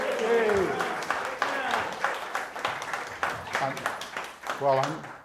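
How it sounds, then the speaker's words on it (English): A small gathering in a courtroom gives a short burst of applause that thins into scattered claps, with someone speaking over it throughout. "I'm not accustomed to getting applause in the courtroom"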